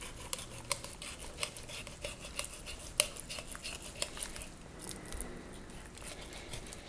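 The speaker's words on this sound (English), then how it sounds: "once you twist it, you want to put lateral pressure on the blade, and we're going to work down" Knife filleting a whole 11 lb salmon along the spine, giving soft repeated scraping and clicking taps as the blade works through bone, faint and close.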